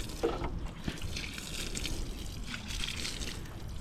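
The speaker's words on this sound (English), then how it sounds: "after I remove the weeds, I come and spray water." Water sprays from a hose onto garden plants in a yard, a steady hissing patter that runs evenly throughout without voices.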